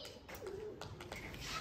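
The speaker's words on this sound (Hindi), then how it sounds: "एक और कबूतर उड़ाओ मोहम्मद, जल्दी जल्दी जल्दी" A short low pigeon coo sounds close by, brief and soft against a light background hiss.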